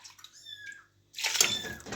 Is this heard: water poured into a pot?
yes